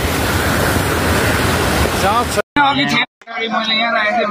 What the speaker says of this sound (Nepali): यहाँ ल्यान्डस्लाइड भएर है एकदमै बाढ आइरहेको छ है